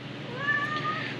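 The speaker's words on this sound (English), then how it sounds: "Noisiest cat I've ever seen." A single loud, drawn-out cat meow, close by and alone against a faint background.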